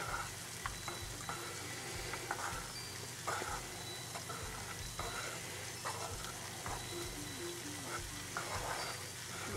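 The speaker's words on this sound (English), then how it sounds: "As you stir, as you prepare your candle wax, make sure you put in your intentions." Melted candle wax is stirred in a pot with a run of repeated scraping strokes over a constant soft hiss, close and moderately quiet, with no voices.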